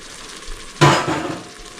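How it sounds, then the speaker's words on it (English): Tomato sauce with lemon juice, already at the boil in a pan, breaks into a brief loud sizzling burst that fades quickly, close and alone. "I'm going to let that come to the boil"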